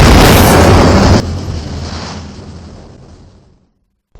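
A car bomb explodes in a mafia crime film, a loud close blast with a full-band roar that cuts off sharply after about a second and then rumbles and decays for several seconds into silence.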